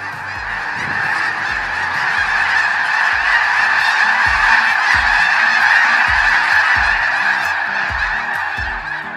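A large flock of snow geese honking continuously, a dense, loud chorus of overlapping calls with no pauses.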